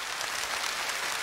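Studio audience clapping for the next contestant on the Korean TV singing contest National Singing Contest, Yeongi-gun edition; a dense, steady wash of applause fills the short stretch with no voices.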